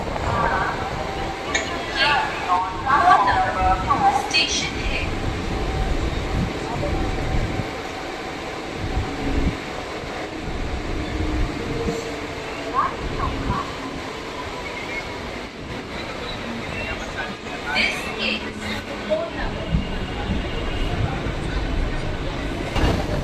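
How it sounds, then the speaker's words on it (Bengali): A Howrah–Shirampur local train rolls into Konnagar station, a steady low rumble and rattle of carriages heard from inside, with faint squeals and clanks rising and falling across the ride and no one speaking. "এখন আমাদের ট্রেন প্রবেশ করছে কোন্নগর স্টেশনে।"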